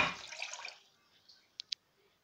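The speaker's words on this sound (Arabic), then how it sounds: "وكمان كوباية مية" A cup of water is poured onto sugar in a pot for syrup, a brief splashing gush that fades quickly, followed by two small sharp clinks in an otherwise quiet kitchen.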